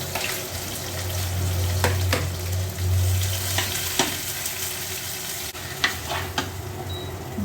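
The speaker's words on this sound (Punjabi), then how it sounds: "ਥੋੜਾ ਜਿਹਾ ਚਾਵਲਾਂ ਦਾ ਤੜਕਾ ਲਾਉਣ" Rice being tempered in a pan sizzles steadily while a spoon stirs it, with occasional scraping clicks and no talking.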